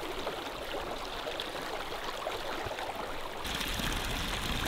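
The Passu river flows steadily beside a mountain highway in northern Pakistan, a continuous broadband rush of water heard close and fairly quiet, growing slightly fuller near the end, with no voices.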